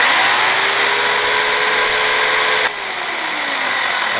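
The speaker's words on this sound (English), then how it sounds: "That's that weird clutch." A Craftsman 16-inch electric chainsaw runs with a steady loud motor whine, then its clutch gives a short clunk as the motor cuts and the pitch slowly winds down.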